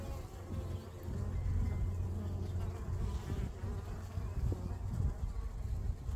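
Dense, steady buzzing of many honey bees close by around a Layens hive, a continuous low hum with faint background noise.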